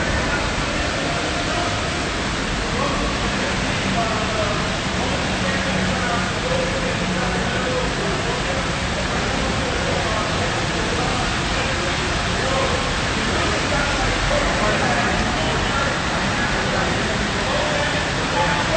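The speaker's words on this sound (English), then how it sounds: "enjoy these videos of a very, very rainy, soaked morning and early afternoon last Saturday." Heavy rain pours down on a very rainy, soaked Saturday morning, a dense, even hiss of downpour that stays loud and steady throughout, with no other sounds breaking through.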